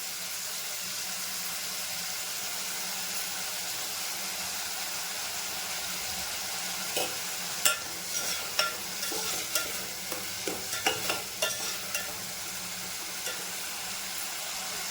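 Tomatoes frying and softening in a pan, giving a steady close sizzle, with a run of scraping stirs near the end and no talking.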